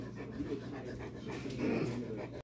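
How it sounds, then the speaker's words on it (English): A cocker spaniel puppy pants close by in quick, steady breaths, with faint voices under it. "This is my baby dog."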